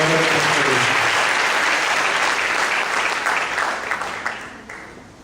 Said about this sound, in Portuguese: Aplauda o Senhor mais uma vez, por favor.